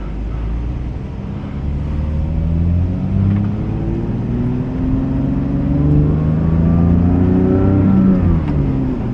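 A 2024 Porsche GT3 engine revs hard under acceleration in sport mode, loud and close, its pitch climbing steadily through several rising sweeps as the car pulls, with a brief dip near the end.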